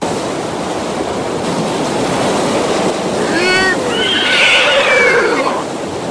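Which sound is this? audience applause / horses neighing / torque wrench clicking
horses neighing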